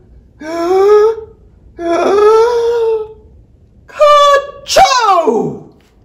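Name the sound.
imitated sneeze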